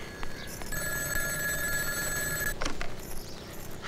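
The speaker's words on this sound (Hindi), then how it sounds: "देख शायद भैया जी का फोन है" A telephone bell rings with a bright, steady electronic trill for nearly two seconds, then stops, over a dense background of film music and ambient noise.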